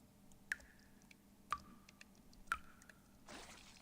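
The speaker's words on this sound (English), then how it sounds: "A sound of dripping water echoes nearby." Water drips in a motel in Reverse: 1999, three clear drops landing about a second apart, each with a short ringing tail in a quiet room. A soft rustling swell follows the last drop.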